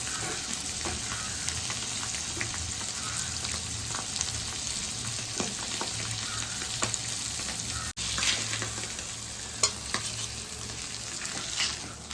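Fish pieces frying in a pan for a fried-fish curry, a steady close sizzle and crackle with occasional light taps and scrapes and one brief dropout; no talking.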